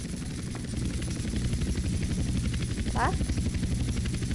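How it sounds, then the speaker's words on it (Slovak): A helicopter flies in the video game GTA San Andreas Multiplayer. Its rotor gives a continuous buzzing drone that swells slightly partway through, while someone speaks briefly over it. "Helikoptéra vie aj lietať."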